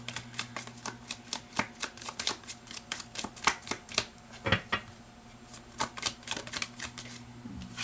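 Tarot cards are handled, shuffled and drawn in a quiet room, giving a run of soft, quick papery flicks and taps at close range, some sharper than others, with a faint steady hum underneath.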